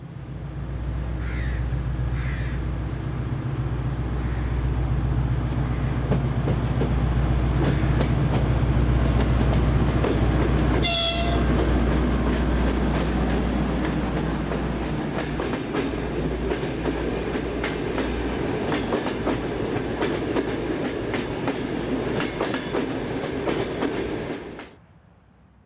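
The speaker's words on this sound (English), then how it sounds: "We begin with the TEP 60 diesel departing Vilnius with the previous night's 1916 service from Moscow." TEP 60 diesel locomotive pulling out of Vilnius with the overnight train from Moscow, a loud sustained rumble of engine and rolling wagons with rhythmic clatter, a crow cawing early and a sharp squeal midway, ending abruptly.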